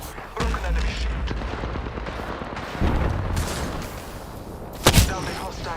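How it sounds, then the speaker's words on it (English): Gunfire in the battle-royale shooter Apex Legends, with repeated shots and blasts crackling steadily over several seconds and a sharp loud burst near the end, while game voice lines talk over the action. "I am taking fire, friends."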